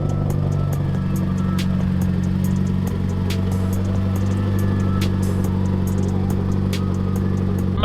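A Mitsubishi Evo 8 engine runs after a new fuse is fitted, a loud steady idle with a deep droning hum and rhythmic clatter, close up and with no talking.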